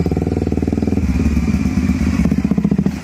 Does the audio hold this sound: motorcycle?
yes